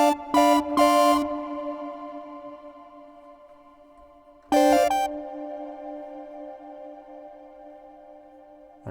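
Synth chords strike in short bursts, each leaving a long, smooth reverb tail that slowly fades; a second chord rings out midway and decays likewise.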